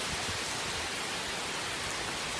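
Steady, dense hiss of rain falling without a break, a close, even wash of drops with no voices.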